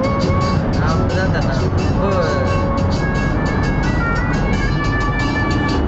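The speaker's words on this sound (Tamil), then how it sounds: "ராஜா பயங்கர தீவிரமா ஓட்டிட்டு இருக்காரு வண்டிய" A car is driven along the road during a family trip to Portland, its engine and road noise a constant rumble throughout, with voices carrying on over it.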